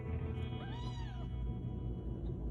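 A small kitten gives a single rising-and-falling meow, thin and plaintive, close by over a steady low background hum, with no talking.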